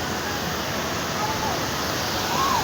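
Jhorle waterfall in Sankhuwasabha roars as steady broadband rushing water under rain, continuous and close, with faint talk from people in the crowd.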